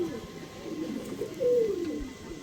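Pigeons coo in low, rolling calls close by, a steady murmuring run with one louder phrase rising near the middle, set among male pigeons kept for sale.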